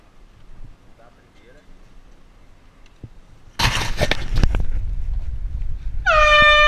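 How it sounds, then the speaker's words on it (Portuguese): A loud, harmonic horn blast bursts in near the end of a paintball game, following a stretch of rushing wind and rumbling noise, with voices faint earlier on. "você vai dar uma buzina, espera 10 segundos e dá outra."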